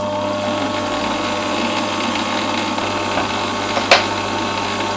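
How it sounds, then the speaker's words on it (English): A lathe runs at roughly 300 to 400 rpm for bluing French clock parts, giving a steady, even mechanical hum with no break in rhythm and a brief clink near the end. "Turn the lathe on and set the speed. I use about 300 to 400 revs."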